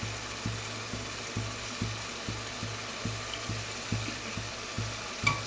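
Chicken noodles with soy sauce are stirred in a sizzling pan, a spatula scraping in a steady rhythm about twice a second over a constant frying hiss, close and alone.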